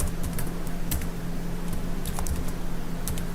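Keys on a computer keyboard clatter in quick irregular bursts while code is typed, steady nearby tapping over a faint constant hum, no voices.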